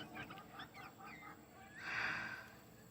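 A Bantam Cochin rooster squalls loudly and insistently nearby, a harsh drawn-out call at the end that follows a few shorter, broken vocal bursts.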